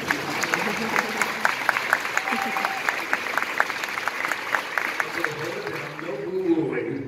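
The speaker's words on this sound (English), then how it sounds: "Give her some applause." Sustained audience applause at a live talk, dense clapping from a crowd that runs steadily for several seconds before easing slightly at the end.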